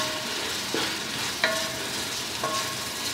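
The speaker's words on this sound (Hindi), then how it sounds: "गाजर, इसको भी हम 1-2 मिनट फ्राई करेंगे" Carrots frying in a pan for Chinese-style egg fried rice, a steady soft sizzle broken by a few sharp scrapes and taps of a spatula stirring near at hand.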